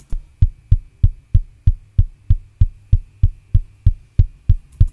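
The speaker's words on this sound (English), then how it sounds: "So it's quite a clicky kick drum." Clicky kick drum with all effects bypassed, the raw unprocessed recording, striking about sixteen even beats in a fast, steady pulse, loud and alone, with faint snare bleed possible in the background.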